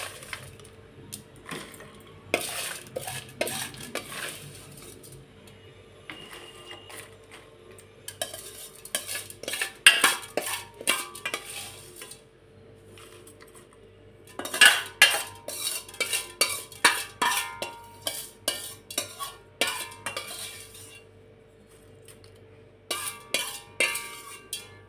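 Cooled fried ingredients are spooned from a pan into a mixer jar in a home kitchen, with intermittent metallic clinks and scrapes of spoon against steel coming in irregular bursts separated by quiet pauses.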